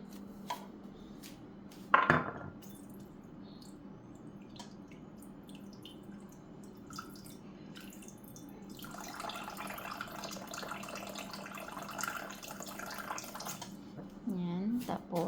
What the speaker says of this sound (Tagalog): Lagyan natin siya ng tubig tapos lulutuin natin.